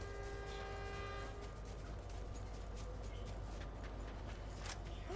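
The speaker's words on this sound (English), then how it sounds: "There's a train." Train rolling past in the video game Fortnite, a steady rumbling rail clatter with a horn-like tonal band, loud and continuous throughout with no talk.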